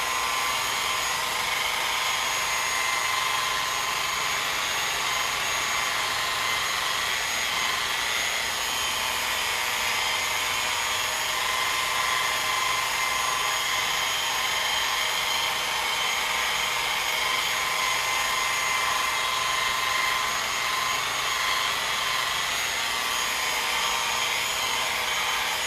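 A power polisher whirs steadily against a car headlight during exterior glass restoration, producing a continuous, even, close motor whine with a slight rise in speed, with no talking.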